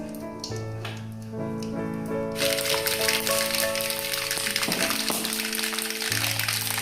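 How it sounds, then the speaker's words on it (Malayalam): Mustard seeds splutter and crackle in hot sesame oil for a pickle, a dense, steady crackling hiss that starts abruptly partway through and continues loud and close, with a tonal background beneath. "അപ്പോൾ കടുക് നല്ലതായിട്ട് പൊട്ടിട്ടുണ്ട്."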